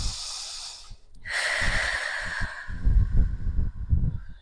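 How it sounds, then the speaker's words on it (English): Slow, deep breathing during a yoga pose: a soft airy inhale followed by a longer, rougher exhale through the nose, close and quiet, with no one talking. "2 more deep breaths."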